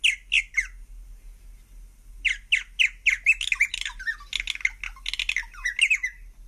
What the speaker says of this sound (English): Wow, a purple martin.